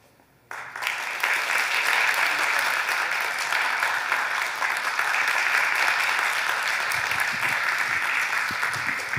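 A wedding audience breaks into sustained applause, a dense, steady clapping that starts abruptly and carries on evenly for several seconds.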